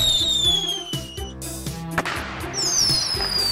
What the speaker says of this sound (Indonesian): Leli, ayo kita lari sambil membawa kembang api.